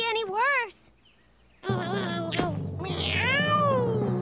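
Two drawn-out, pitch-bending cartoon cat meows, close and loud, separated by a short pause, with a murmur of sound beneath the second.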